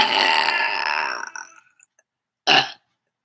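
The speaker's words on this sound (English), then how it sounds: "She burped about 5 times" A person burps in one loud, short burst after a long, rough, throaty stretch of noise, then silence follows.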